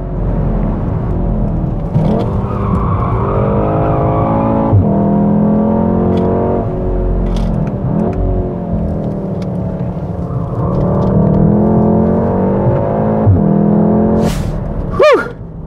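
A Volkswagen Golf R driven hard pulls through the gears. The engine note rises in strong sweeps, drops at each shift and rises again, and a loud whoosh passes near the end. Nobody talks.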